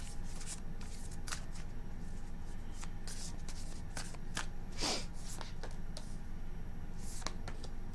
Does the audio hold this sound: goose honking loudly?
no